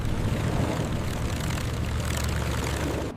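A P-47 Thunderbolt fighter plane's piston engine drones loud and close during landing, a dense, steady roar that holds throughout and drops away right at the end.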